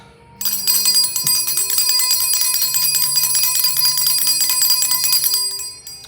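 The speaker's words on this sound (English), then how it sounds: "By the ringing of this bell, energy is released." A bright bell rings once and keeps sounding, its shimmering metallic tone lingering for several seconds before fading out.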